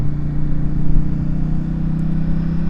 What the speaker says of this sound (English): that lovely drone from my new exhaust